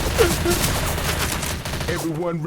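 Gunfire in the co-op zombie shooter Left 4 Dead 2, a dense burst of rapid automatic shots over about two seconds, loud and close, with players' voices mixed in.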